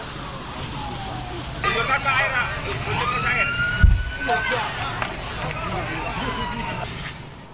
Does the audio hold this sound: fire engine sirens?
yes